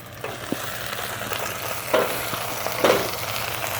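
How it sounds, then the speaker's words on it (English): Chaya leaves sautéing in a pan, a soft steady sizzle with a few brief stirring scrapes and clicks rising over it; no talking. "So it's sauteing nicely there"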